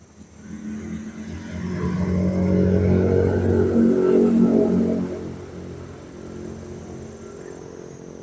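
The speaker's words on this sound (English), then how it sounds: "trucks are so loud" A loud truck on a road in northern Vietnam roars past nearby, swelling to a heavy engine growl and then fading back into steady traffic hum.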